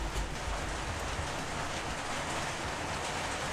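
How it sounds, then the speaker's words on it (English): Heavy rain pours in a dense, steady hiss that stays loud and unbroken throughout, with no voices. "we are getting some heavy rain right now"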